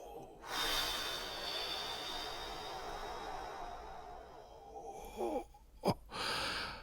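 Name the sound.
deep abdominal breathing, inhaling and exhaling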